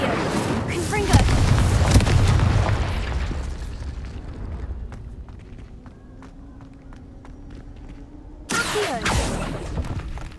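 Confringo spell blasts in the Hogwarts Legacy video game give loud bursts and booms at the start and again near the end, with quieter footsteps and game ambience between.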